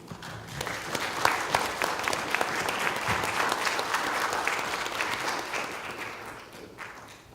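At the CANTO 2017 ministerial conference, a hall audience gives a round of applause. The clapping is dense and steady, lasting about seven seconds before thinning toward the end.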